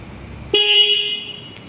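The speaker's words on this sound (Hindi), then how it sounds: "तो इसमें आपको सिंगल टोन हॉर्न मिलता है।" A Bajaj Pulsar N160 motorcycle's single-tone horn blares a steady tone for about a second, loud and close, after a quiet moment, then cuts off.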